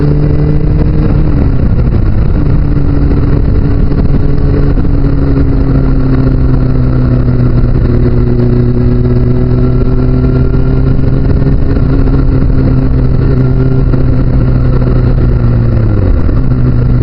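Motorcycle riding on long, quiet open country roads, a loud steady engine drone with slowly shifting pitch as it holds speed, under constant wind buffeting.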